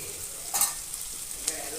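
Bottle gourd with onions frying in a pan, a steady close sizzle with a brief stirring scrape partway through and a small clink near the end.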